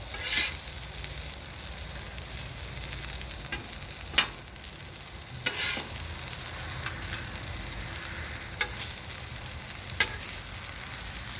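Mushrooms sizzle on a hot outdoor cookout griddle beside cooking burgers, a steady even hiss throughout with a few sharp scrape and clack sounds from a utensil, close and alone.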